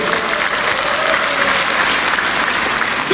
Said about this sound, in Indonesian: Tepuk tangan dulu Yayasan Putus